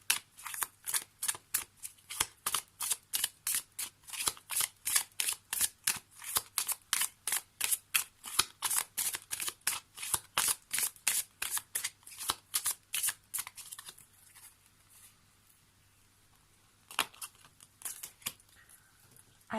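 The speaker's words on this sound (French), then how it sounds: "on va prendre notre première carte" Oracle cards are shuffled by hand in a long run of quick, crisp riffling flicks, close and steady, fading to a few scattered taps near the end.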